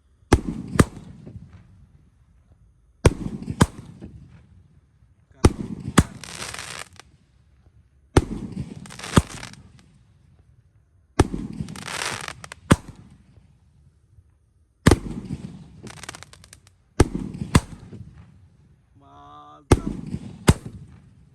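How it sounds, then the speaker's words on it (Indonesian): Large Roman candle fireworks, two fired at once for Ramadan, launching in a steady series of sharp pops roughly every two to three seconds, each followed by a crackling, fading tail, loud and near. "Romaine candle terbesar terkuat di bumi ini"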